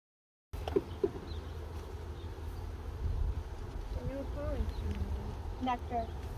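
Honey bees buzz around opened hives, a faint steady hum with occasional nearby flights, while people talk quietly.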